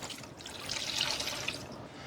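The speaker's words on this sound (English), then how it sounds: "So we're gonna do a cup of milk and we're gonna pour this in." A cup of milk pours into a clarified milk punch mixture, a close, steady liquid trickle and splash that lasts about two seconds with slight swells and no talking.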